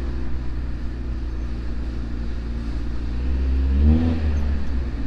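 A Honda CRX with freshly fitted brakes pulls away on a short test drive around a lot, its engine droning steadily close by and swelling louder as it accelerates, with no talk.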